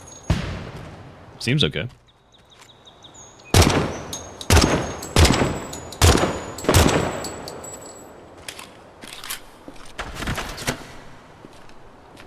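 Rifle gunfire in Project Silverfish, firing 5.56 and 30-06 rounds, cracks out in separate loud shots: a pair early, a regular string of five or six through the middle and a couple more near the end, with a brief spoken comment.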